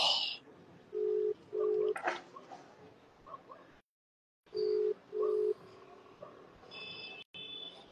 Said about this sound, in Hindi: अभी एक को कॉल लगाता हूँ मैं